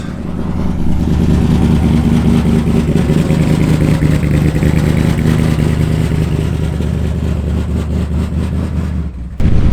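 A loud car engine at a car show rumbles steadily up close, holding a low, throaty idle with rattling undertones before cutting off near the end.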